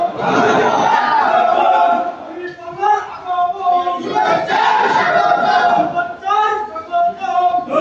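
A crowd at a religious gathering shouts marhaba together in loud, close chants that rise and fall in repeated unison calls, with voices blending into a dense collective roar.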